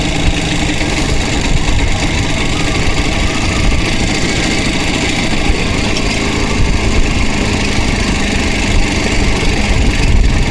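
An IZh Jupiter 2 motorcycle engine runs continuously in fourth gear on the move, a steady loud buzzing drone with wind noise and no pauses.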